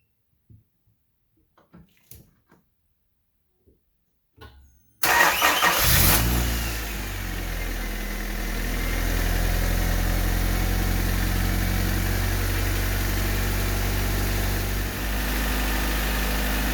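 A 1988–1991 Honda Civic EF9/ED7 engine, tested for a worn battery, stays quiet for a few faint clicks, then cranks once and catches into a loud, steady idle that holds to the end.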